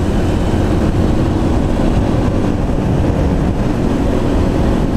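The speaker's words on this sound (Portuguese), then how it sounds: "E a moto sobe o giro rápido." A Honda Biz motorcycle with a worn clutch runs at high revs, giving a loud, steady engine drone close up that holds level without pause for about five seconds.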